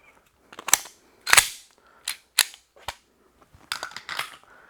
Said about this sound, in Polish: aż padnie strzał